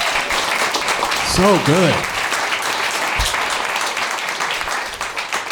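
A comedy-show audience in a bar applauds itself, a steady dense wash of clapping throughout, with a couple of excited voices and a brief spoken remark rising over it.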